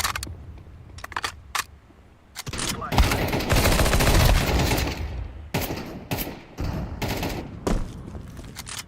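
Rapid P90 submachine gun fire in a first-person shooter video game, a dense burst of automatic shots in the middle after scattered shorter bursts, loud and close, with more intermittent gunfire following.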